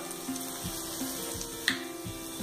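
Vegetable peels frying in a pan with chilies, a steady close sizzle with small crackles and soft stirring clicks throughout.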